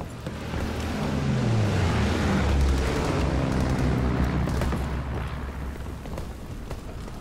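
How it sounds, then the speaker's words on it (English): Incoming enemy artillery in Call of Duty WWII: a heavy, rumbling blast swells and rolls through the battlefield, loud and low, then slowly fades into scattered distant impacts. "Incoming enemy artillery!"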